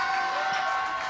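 An audience applauds steadily for a performer introduced as Justin Bieber at a comedy show, a dense, even wash of clapping and crowd noise that holds moderately loud throughout with no talk over it.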